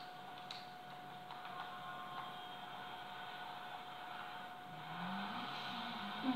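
Motorcycle engine in the video game GTA 5 drones steadily, then rises in pitch as it revs toward the end, with no talking over it.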